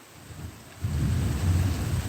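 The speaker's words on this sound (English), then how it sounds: "And there goes more thunder, and there's lightning too." Thunder rolling in during a July thunderstorm in Kentucky, a low rumble swelling abruptly and sustaining over steady rain hiss, fairly loud and broad.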